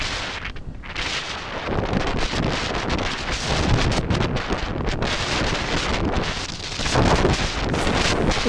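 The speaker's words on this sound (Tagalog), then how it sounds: "Grabe na ulan na nga, lakas pa ng hangin." Strong gusting wind buffets the microphone in a constant loud roar on a foggy outing, with rain likely mixed into the steady noise.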